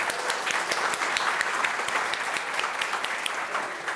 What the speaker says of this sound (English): So can we get a big cheer for Asan on the sound?